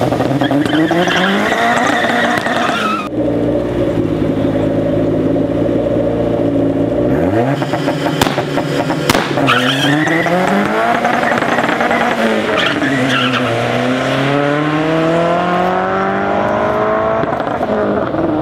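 A turbocharged Honda CRX at a drag strip launching off a two-step launch control, its engine revving hard and rising through the gears with squealing tires, loud and close throughout with no talking.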